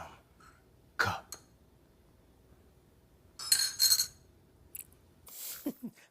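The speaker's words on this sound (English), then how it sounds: "Stop stirring that damn cup." A spoon stirs in a cup, giving a few separate clinks and a cluster of bright metallic chimes near the middle, with quiet pauses between and no talking.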